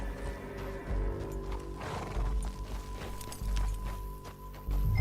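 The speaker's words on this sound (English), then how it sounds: "Back on your horse. Let's get after them." A horse whinnies over a busy mix of hoofbeats and rumbling game sound in Red Dead Redemption 2, with steady clip-clop running throughout.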